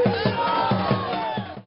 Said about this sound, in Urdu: انہوں نے سر پر سفید پٹیاں باندھ کر پاکستان اور پاک فوج زندہ باد کے نعرے لگائے۔